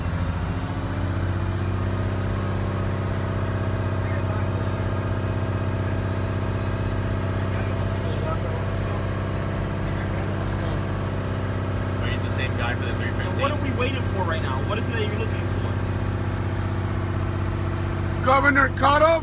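A truck engine runs steadily at a held idle below 2,000 RPM to build air pressure in the brake system, a constant low droning rumble with faint clicks and rattles late in the clip.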